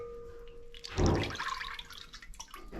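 Melted tallow body butter blended with olive oil pours into a mixing bowl in one brief, soft liquid gush, followed by faint dripping and settling sounds, no talking.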